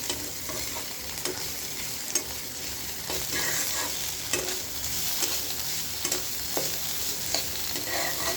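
Food fries in a covered pan with a continuous crackling sizzle. Intermittent scraping clicks of a utensil stirring it recur every second or so.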